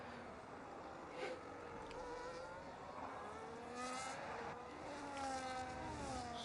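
A McLaren race car in a sim racing game sweeps past, its engine note rising and falling in pitch through gear changes, moderately distant and steady against faint background track sound.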